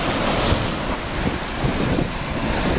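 Sea waves wash onto a Crimean shore in a steady, roaring surge, with heavy wind buffeting the microphone throughout.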